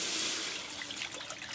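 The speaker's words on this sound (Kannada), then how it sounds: "ಬನಳೆ ಒಂದು ನೀರು ಪಾಡ್ದ" Water is poured into a pan while making coconut jaggery burfi, a short soft trickling splash heard up close with no talk.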